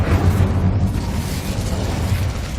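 An Incendio fire spell cast in Hogwarts Legacy gives a loud, close, sustained fiery roar with heavy low rumble, holding steady for a few seconds without speech.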